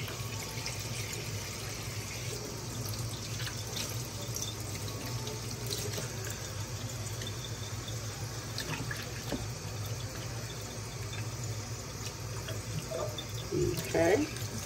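Cold tap water runs steadily into a sink while collard greens are rinsed and rubbed, a constant splashing wash with a voice speaking over it.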